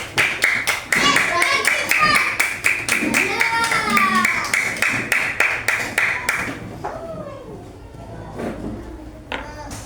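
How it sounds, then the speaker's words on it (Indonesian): A group of children claps for their classmates in a classroom, with a brisk, rhythmic run of hand claps over chattering young voices that stops partway, followed by lingering talk. "kasih tepuk tangan untuk kelompok 1"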